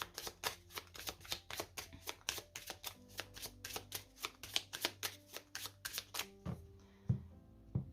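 A deck of tarot cards is shuffled briskly at close range, giving a fast run of sharp, papery riffles and snaps that continue steadily for several seconds and then slow into a few softer handling sounds.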